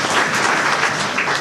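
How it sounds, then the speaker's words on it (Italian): Audience applause at a TV music show, a short burst of steady, dense clapping from a crowd, loud and continuous with no talking. "direi di fare un grande applauso"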